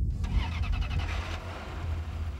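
A high-revving naturally aspirated sports car engine, good for 300 km/h with an 8,500 rpm redline, roars loud and close, with a sharp burst at the start settling into a steady drone.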